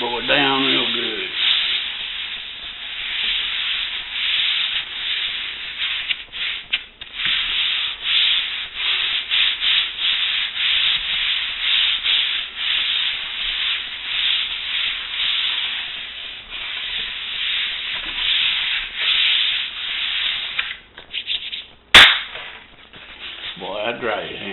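Steady rasping scrub of a foam model aircraft wing edge being rubbed down by hand, continuous and close for most of the stretch, with a brief sharp knock near the end before it tails off.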